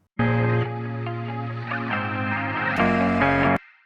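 A sustained synth chord processed with a sweeping flanger and reverb, its tone swirling and shifting, loud and continuous for a few seconds before cutting off.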